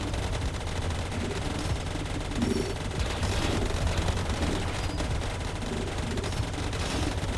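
Plasma cannon fire in a video game, a dense continuous roar of rapid booming blasts and crackle that stays loud and steady throughout, with no talk.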